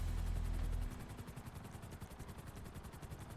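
A helicopter in GTA Online beats with a rapid, regular rotor chop that carries on steadily after a louder low rumble fades in the first second.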